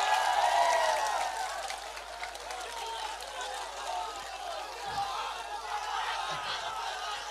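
An audience at an outdoor public meeting in Assam claps in a dense, sustained patter that starts loudest and carries on under crowd murmur, with a few scattered thumps.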